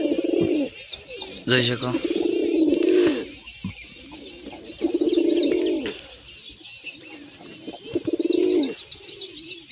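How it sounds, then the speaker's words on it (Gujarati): White pigeons coo in repeated throaty bursts close by, with occasional chirps and brief wing sounds, while a person speaks between the calls. "તો મિત્રો પાછા બધા કબૂતર આવી ગયા છે બચ્ચાને હેરાન કરવા માટે"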